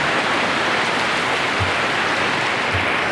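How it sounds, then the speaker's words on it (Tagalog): Heavy rain pours steadily and loudly, a dense unbroken wash of drops with no voices. "Malakas ang ulan"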